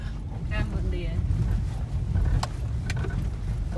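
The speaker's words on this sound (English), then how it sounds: "This is just us driving." Car driving along a back road in Cambodia, with a steady low rumble of engine and road noise throughout, a few faint rattles and clicks, and people talking over it.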